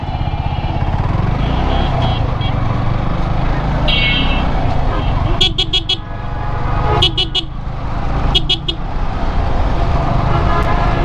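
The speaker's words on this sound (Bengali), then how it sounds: "ভালো জ্যাম লাগছে এখানে, সামনে বাস স্ট্যান্ড তো সেজন্য" Heavy road traffic jammed near a bus stand in a small town, with engines rumbling continuously and several sharp, repeated horn blasts cutting through, some in quick bursts of toots.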